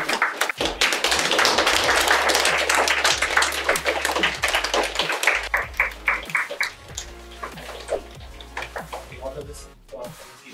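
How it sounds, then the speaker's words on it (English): An audience at a student prize ceremony for a Python training institute claps for the winners, starting as a thick burst of hand claps that thins out into scattered, distinct individual claps before fading near the end. "So let's clap for all the winners"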